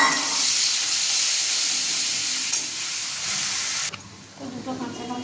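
Onion, ginger and garlic paste sizzling loudly in hot oil in a pan, a dense continuous hiss close by that cuts back sharply near the end as other kitchen noise takes over.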